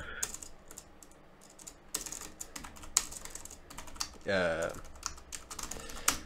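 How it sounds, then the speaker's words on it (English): Rapid typing on a computer keyboard, irregular clattering keystrokes in bursts, fairly quiet and close, with a brief voice-like sound midway. "I am frantically typing away."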